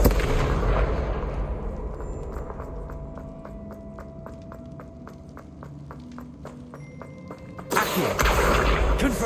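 Repeated spell blasts from the Confringo fire spell in Hogwarts Legacy, a steady rhythmic string of sharp popping bursts over a rumbling background, ending in a louder, brighter explosive burst.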